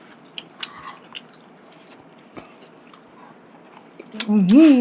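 Close, crunchy chewing of grilled sausage comes as scattered crisp bites and crackles, followed at the end by a person's voice speaking.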